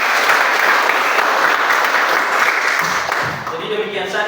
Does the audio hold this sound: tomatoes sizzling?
no